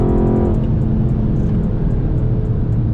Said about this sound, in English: I spun hard, bro, and the engine cut off.